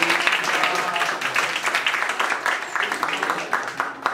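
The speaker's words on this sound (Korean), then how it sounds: "우리 이 가정에게 박수 한번" An audience at a church year-end party applauds a family, with dense, sustained clapping from many hands and some voices mixed in.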